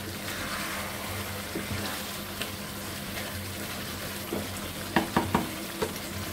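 Chicken curry with potatoes sizzles steadily in the pan as it is stirred, with a few sharp clinks of the spoon near the end and no talking.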